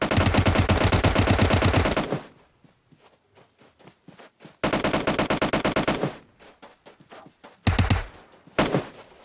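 Loud, close bursts of automatic gunfire from a battle royale video game, with a long sustained burst, a pause of scattered single shots and footsteps, then another long burst and two short sharp volleys.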